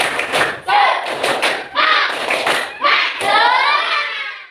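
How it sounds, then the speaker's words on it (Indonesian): Children perform a rhythmic spirit clap, a run of sharp hand claps in short grouped bursts mixed with their chanting voices, close and loud, repeating steadily over a few seconds. "Tepuk semangat"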